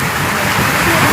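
Heavy stormy downpour pours steadily and loudly, a dense continuous wash of rain with no pauses and no clear voices.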